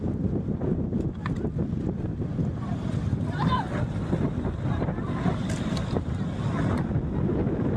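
Strong wind buffets the microphone on Vayangani beach, with surf rumbling underneath in a continuous loud roar and faint voices in the background.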